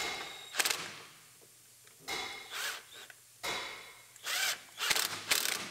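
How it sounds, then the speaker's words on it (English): Hose clamps being tightened on a 2006 GMC Sierra with a power driver or ratchet tool, several short bursts of whirring and clicking separated by quiet pauses, close by. "And we'll torque down our hose clamps."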